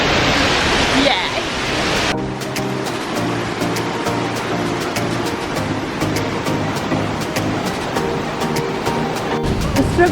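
Steady rushing roar of Sekumpul waterfall in Bali, a broad continuous wash of noise that fills the scene, with brief voices over it near the start.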